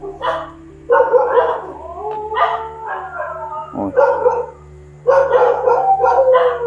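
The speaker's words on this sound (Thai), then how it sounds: "หมาหอนท่านผู้ชม" A dog howls in long, wavering, rising and falling cries, pausing briefly between bouts, close and loud with a low hum in the background.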